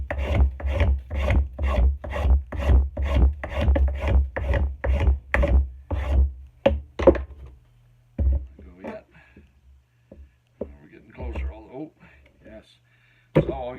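A rasp files a wooden axe handle in about fifteen quick, even strokes up close, then the scraping stops and a person talks with a few small knocks.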